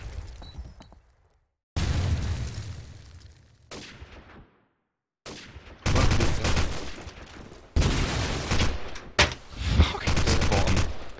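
Gunfire in a round-based competitive shooter video game, loud bursts and volleys of shots separated by brief quiet gaps, with crackling impacts and a muffled explosive thump, heard up close.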